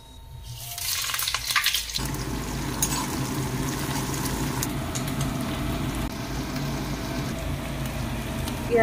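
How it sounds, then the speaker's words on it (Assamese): Onions frying in oil with a little goat fat, whole cumin, bay leaves and dried chillies in a home kitchen, giving a steady close-up sizzle after a brief clatter at the start. "পিয়াজখিনি দেখিছে অলপ ভাজি লৈছো"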